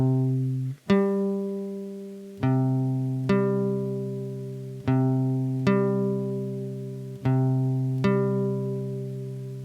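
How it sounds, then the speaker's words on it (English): A guitar rings out a perfect fifth interval, the two-note chord struck about six times in a steady, unhurried rhythm, each strum sustaining and slowly fading before the next, played alone and clear. "the sound of a 5th, a perfect 5th, is this."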